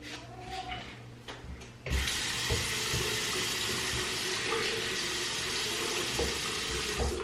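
Steady running tap water pours over hair during a rinse after washing 360 waves, starting abruptly about two seconds in after quieter handling sounds, then continuing as a loud, close, even splashing rush.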